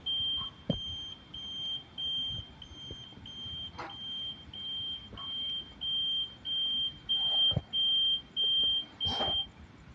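Prototype IoT fireworks firing system sounds its buzzer alarm: a steady high electronic tone pulsing on and off in a regular rhythm of roughly a dozen beeps, close and clear, with faint clicks and background noise beneath.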